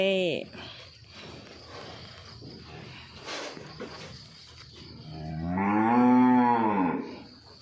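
A single long, deep moo from a cow in an earth pen kept for cattle with injured legs rises close and loud near the end, after a stretch of quiet outdoor background with faint insects.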